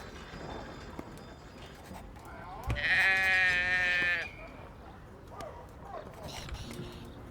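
A sheep in the video game Drova - Forsaken Kin gives one clear, sustained bleat lasting about a second and a half. It stands out over quiet ambience and faint voices.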